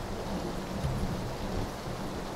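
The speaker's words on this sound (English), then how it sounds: "That's thunder." Thunder rumbles low and steady through heavy rain in a battle royale shooter match, a continuous broadband wash with a deep rolling swell that never quite breaks into a sharp crack.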